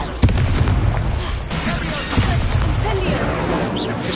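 Incendio fire spell in the Hogwarts Legacy video game, a booming burst followed by crackling, rushing combat effects, with loud game sounds continuing throughout.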